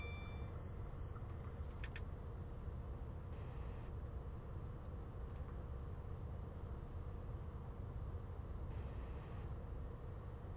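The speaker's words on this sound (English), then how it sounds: "Another fast train." A fast train rushes past in a train simulator game on the Great Western Main Line, a steady loud broadband roar filling the whole clip, with brief high tones and clicks near the start.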